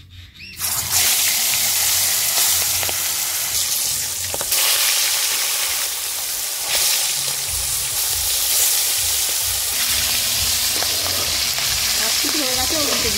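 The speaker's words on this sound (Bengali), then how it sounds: "তেল গরম হয়ে গেছে, মাছ ছেড়ে দিচ্ছি একটা একটা করে।" Live pond magur catfish dropped one by one into hot oil with turmeric, a loud, steady sizzle and crackle of frying that runs continuously after a brief quiet start, with occasional stirring clatter.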